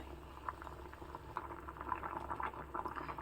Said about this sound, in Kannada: ನೋಡಿ ಎಷ್ಟು ಚೆನ್ನಾಗಿ ಕುದಿ ಬರ್ತಾ ಇದೆ ಅಂತ